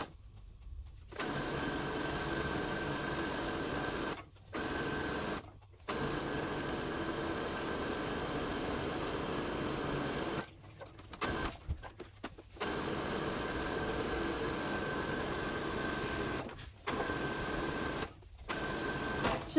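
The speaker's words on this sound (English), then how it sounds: "So you can see I started sewing here." A sewing machine stitches fabric for a scrub cap, running in long continuous whirring bursts broken by short pauses as the fabric is adjusted, close and steady with no talking.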